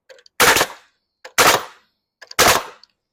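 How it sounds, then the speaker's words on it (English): A pneumatic nail gun fires nails in three quick, sharp, loud bangs about a second apart, each preceded by a faint click, with the compressor switched off. "I can multi-fire very quickly"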